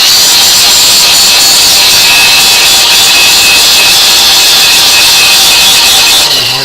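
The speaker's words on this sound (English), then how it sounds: "I usually use an angle iron, or you could use anything that's abrasive to try to clean off some of the paint and" An angle iron scrapes paint and rust off the metal of a HMMWV M998 Humvee, making a loud, steady, harsh abrasive rasp that runs without pause and eases off only at the very end.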